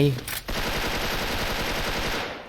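Sustained M4A1 automatic rifle fire in the video game Special Force, a loud continuous burst following a brief vocal sound at the start.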